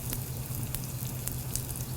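Steak hissing and crackling steadily in a hot pan, a close, continuous sizzle with small pops, no voices.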